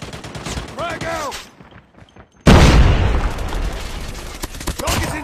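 A frag grenade goes off in Call of Duty Mobile with a sudden loud boom after a brief near-silence, amid ongoing gunfire bursts and game radio chatter.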